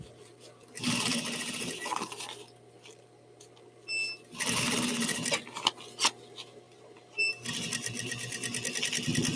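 A sewing machine running around the edge of fabric in several loud close bursts of rapid whirring stitching, with brief stops, small clicks and short beeps between runs.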